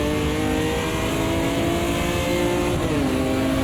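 Raspy race car engine roaring steadily at high revs in a sim racing video game, with a faint pitch shift near the end as the car presses on under heavy strain on worn rear tyres.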